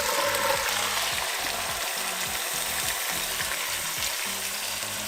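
Fried pork being returned to a pan of adobo sa gata, a steady loud sizzle and bubbling frying noise throughout, close with a low rhythmic hum underneath and no talk.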